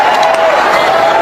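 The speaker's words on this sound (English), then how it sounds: "Listen to this crowd going wild." A big tennis crowd on center court at the Philippine Open roars in a loud, sustained wall of cheering and clapping that continues throughout without a break.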